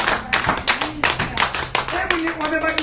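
A church congregation at a Swahili Bible study claps loudly together in an irregular burst of sharp claps, with voices speaking and calling over the clapping.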